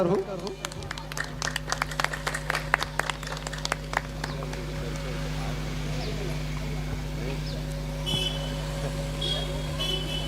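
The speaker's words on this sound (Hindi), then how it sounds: "ताली से स्वागत करो अवैया जवैया मानस मंडली ला ताली से स्वागत करूँ।" A gathering at a Ram Katha festival in Urla, Chhattisgarh, claps to welcome a Manas singing group, a burst of scattered claps over a steady electrical hum that fades into background noise.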